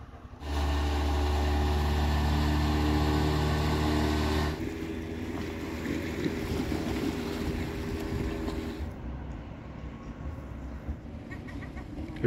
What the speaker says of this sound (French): Il y a quand même pas mal de bateaux de pêche ici. C'est le port, vous voyez.